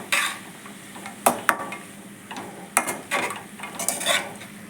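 Tomato, ginger rice and long beans being stirred in a pan, with a spatula scraping and clinking against the metal in irregular bursts over a soft background sizzle.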